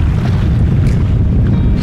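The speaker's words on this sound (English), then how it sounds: "Still very windy." Strong wind at a fishing lake buffets the microphone in a steady low roar that never lets up, with no talking heard.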